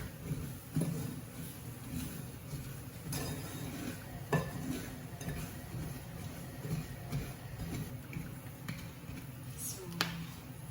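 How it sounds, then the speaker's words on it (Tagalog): Sugar and almonds stirred in a pan until caramelized make a continuous scraping and sizzling sound, broken by occasional utensil knocks against the pan, with faint talk in the background. "Halo-haloin lang siya ng paghahaloin hanggang maging caramelized na yung sugar."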